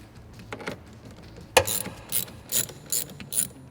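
A ratchet loosens the battery terminal on a Ford F-150, one quick click, then a sharp knock followed by a series of rhythmic ratcheting bursts close to the microphone.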